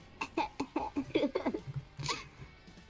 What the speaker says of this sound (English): As you might hear coughing